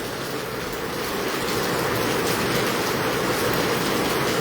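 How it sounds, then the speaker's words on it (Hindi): Heavy rain pouring down in Hisar during a storm, a loud, dense, steady hiss of falling water filling the scene with no distinct thunderclap standing out. "तो देख सकते हैं ज़बरदस्त गर्जना के साथ बूंदाबांदी तेज़ हो गई है।"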